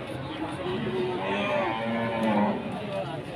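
A Pegon cow at a cattle market gives low lowing moos amid the murmur of a busy crowd, with people talking nearby throughout.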